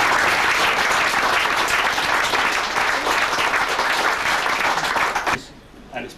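Loud, sustained applause from a crowd at a cricket club opening gathering, dense clapping filling the room for several seconds before cutting off abruptly.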